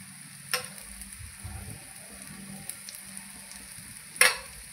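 Besan poli, a gram-flour flatbread, fries in oil drizzled around it on a pan over high heat, a soft low sizzle broken by a couple of sharp clicks or scrapes, with no one speaking.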